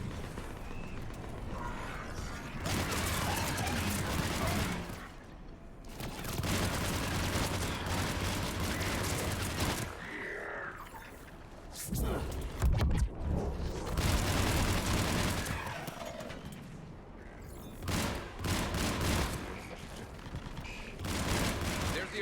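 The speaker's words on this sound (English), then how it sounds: "There's the artillery." Heavy artillery fire rumbles and booms continuously through a battle in Mass Effect 3, with dense overlapping blasts and rattling, and brief lulls between barrages.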